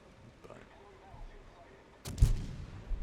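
Guns on the battleship Jean Bart fire in a naval video game: a single heavy, booming salvo erupts late after a quiet stretch, with a short rumbling tail.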